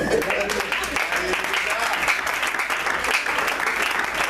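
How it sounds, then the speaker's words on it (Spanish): Loud, dense applause fills a church congregation, a continuous roar of many hands clapping with voices mixed in throughout. "era un aplauso fuerte"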